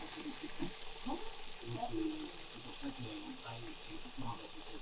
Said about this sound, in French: je mets la viande, je fais revenir la viande. Et après, je rajoute l'oignon et les tomates.